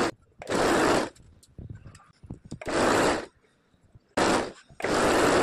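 A sewing machine stitches along folded blouse lining in three loud whirring runs of about a second each, close by, separated by quiet stretches of small handling clicks and rustles.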